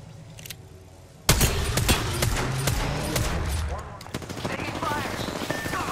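Gunfire in the Apex Legends battle royale game: after a quiet opening, a sudden loud burst of rapid automatic shots erupts nearby, continuing in clustered volleys with sharp cracks and scattered impacts.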